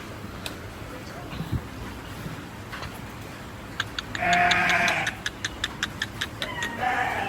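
Large Punjab HF dairy cows stand in a cattle shed, where a drawn-out bleating animal call rises midway over a steady background, followed by a run of regular, sharp clicks.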